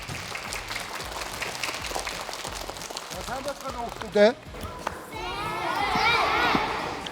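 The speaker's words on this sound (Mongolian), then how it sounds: "Алга ташлтыг бэлгэлээ." An audience of children and adults bursts into applause for a traffic police officer after some talk, the clapping holding steady and fairly loud to the end.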